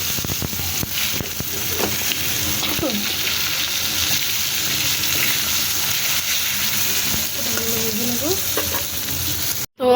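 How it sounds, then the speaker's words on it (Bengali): Sliced pointed gourd (potol) frying in hot oil, a steady dense sizzle running through the whole stretch with scattered spatula scrapes and clinks, close and loud, ending in a sharp clatter. "সবগুলো পটল একটু ভেজে দেবো তেলে"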